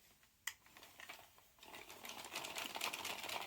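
A small 16-stitch circular knitting machine starts after a single sharp click, then runs with a quiet, fast, rattling clatter that builds steadily.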